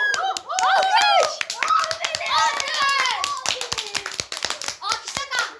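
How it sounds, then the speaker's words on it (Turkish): Children clapping indoors, sharp separate hand claps in an uneven rhythm mixed with excited kids' voices and shouting that often run over them. "Alkış."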